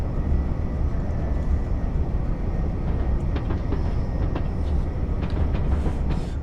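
Class 165/1 diesel multiple unit running in Train Simulator Classic, a steady low engine drone and rail rumble with faint intermittent clicks, continuous and close throughout.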